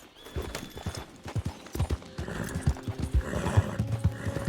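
A horse in the video game Red Dead Redemption II clip-clops along in a steady rhythm of hoof strikes and gives a neigh partway through, close and clear with quieter background sound behind.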